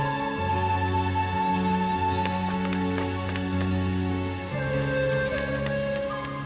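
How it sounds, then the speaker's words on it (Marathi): Steady rain falls with scattered drops ticking on a surface, over a continuous low droning hum that runs throughout. "पाऊस पण पडतोय"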